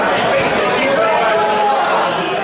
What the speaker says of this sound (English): The crowd's pretty vocal